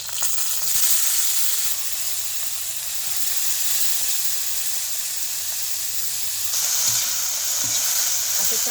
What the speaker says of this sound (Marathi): असं चांगलं तेलात हलवायचं पूर्ण गवारी भाजेपर्यंत.